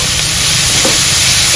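Onions fry in a pan with black salt and peanuts, giving a loud, continuous sizzle with a steady bright hiss and faint stirring, no voices.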